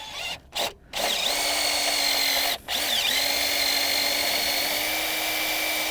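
A power drill with a 1/4 bit bores out a ball joint rivet on a 1992–2000 GM 4WD K truck: two short bursts, then a sustained high whine with a brief stop partway through.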